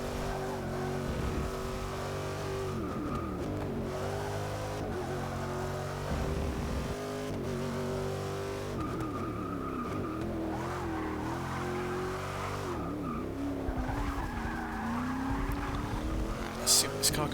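Race car in Forza Motorsport 6 accelerating hard along a straight, engine revving through gears with brief tire skids, loud and close throughout, with a voice talking over it.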